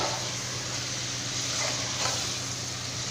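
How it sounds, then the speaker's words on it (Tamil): Mushrooms being sautéed with masala for a Chettinad-style mushroom biryani sizzle loudly and steadily in a pan, with faint stirring scrapes mixed into the continuous hiss. "இப்போ இது எல்லாமே சேர்த்து நல்லா வந்து நம்ம வதக்கி விட்டுக்கலாம்."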